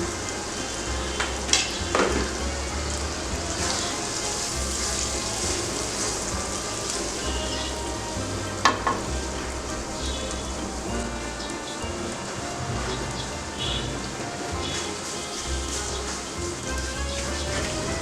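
Garlic frying in oil in a pan for a green chilli pickle, a loud, steady sizzle and crackle that runs throughout, with occasional sharper pops.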